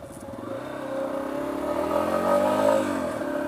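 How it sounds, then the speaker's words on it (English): The engine of a Yamaha XT250 dual sport motorcycle runs close by, building from a steady idle into a revving drone that climbs in pitch and then eases off, with no voices. "Let you hear the motor just a little bit."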